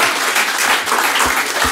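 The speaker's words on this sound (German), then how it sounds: "Applaus bitte." A theatre audience applauds in a dense, continuous burst of clapping, loud and close throughout the short moment.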